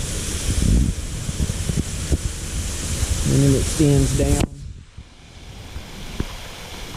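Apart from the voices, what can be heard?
waterfall flowing after rain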